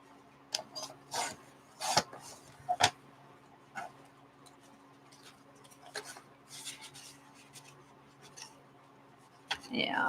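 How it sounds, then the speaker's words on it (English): Paper cards for an art journal are trimmed with scissors or a cutter, with short crisp snips and rubbing scrapes in bursts and quiet gaps between them, while a person talks intermittently. "I want to trim these cards just a little"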